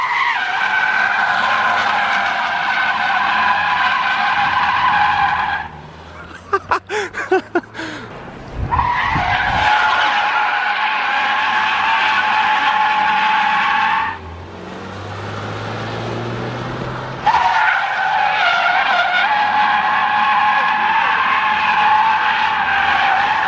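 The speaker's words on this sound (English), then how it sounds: "see me drifting through the trucks?" Car drifting on a German street, tires squealing loudly in long sustained bursts, broken by a short stretch of engine rumble and clatter before the screeching resumes twice more, close and continuous.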